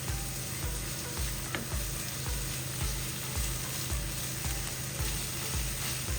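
Ginger garlic paste fries in a pan as a spoon stirs it, with continuous sizzling crackle and a regular rhythm of soft scraping strokes, close and without talk.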